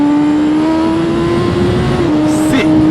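A loud, close BMW S1000 RR sport motorcycle engine holds a high rev with a raspy exhaust note, blipping briefly near the end before settling back to a steady scream.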